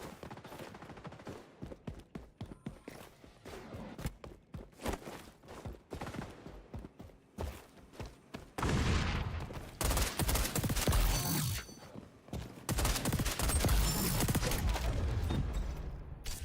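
Gunfire rattles in the online shooter XDefiant, starting with scattered single shots and short bursts, then turning into a dense, loud stretch of sustained automatic fire and booms.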